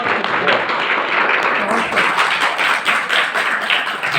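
Steady, dense applause from an audience after a poetry recital, continuous even clapping that holds at full level throughout.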